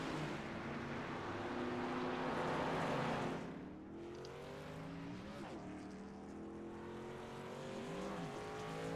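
Racing trucks in the HTL Hammer Down Truck Series roar steadily around the track as trucks spin out, with a continuous loud engine drone that eases and shifts in pitch as trucks pass, with no talking.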